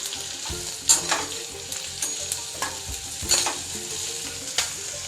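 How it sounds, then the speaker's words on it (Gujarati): Green chilies sautéing in oil in a pan for a Gujarati chili sambharo, a steady sizzle broken by repeated scraping stirs of a spatula, close and moderately loud with no talk. "અહીંયા આપણા પ્રોપરલી મરચાં સતાઈ ગયા છે"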